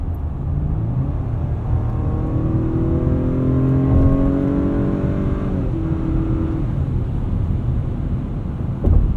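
Turbocharged engine of a 2019 Acura RDX A-Spec pulling under acceleration from inside the cabin, a steady smooth whir with rising tones that climb through a gear then drop, continuous and moderately loud with no talk.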